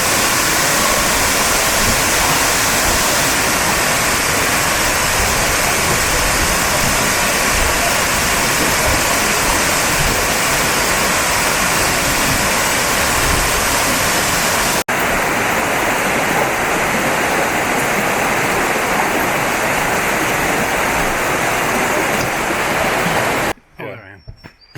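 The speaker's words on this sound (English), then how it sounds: "We are headed up a spur trail to go see King Creek Falls." King Creek Falls on the Foothills Trail roars as a loud, steady broadband wash of falling water, close and continuous, softening partway through and cutting off near the end.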